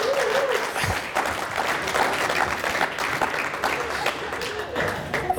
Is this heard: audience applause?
yes